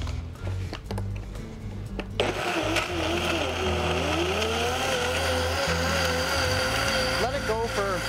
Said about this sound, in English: we're gonna buzz this up till it's nice and smooth